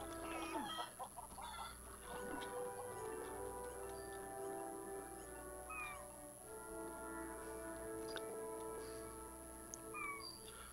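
A chicken clucks repeatedly in the LEGO Worlds video game, with game sounds around it and brief sharp cries, no talking.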